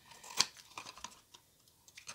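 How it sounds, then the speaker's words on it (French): Scissors trim the edges of a handmade Christmas gift box at a bevel, giving a few faint, irregular snips and crisp cuts up close in a quiet room. "on coupe en biseau tous les bords"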